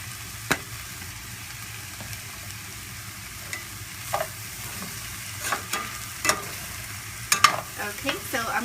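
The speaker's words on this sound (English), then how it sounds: "I'm going to go ahead and saute that for another minute" Seasoned turkey with Italian seasoning and parsley flakes sautés in a pan, a low steady sizzle broken by occasional sharp scrapes and taps of stirring close by.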